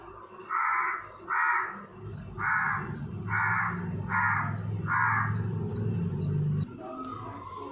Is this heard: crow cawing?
yes